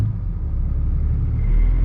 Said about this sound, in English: I'll show you guys how the turbo and the exhaust sounds inside the truck